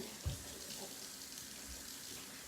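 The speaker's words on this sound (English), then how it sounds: "I'll leave the water running for Miss Ava." Water runs steadily from a kitchen tap, a continuous hiss with a brief knock near the start.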